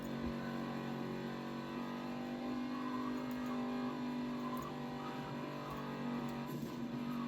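Car engine in the racing video game Burnout Legends, a steady droning hum with sustained tones as the coupe drives and accelerates, loud and continuous with no speech.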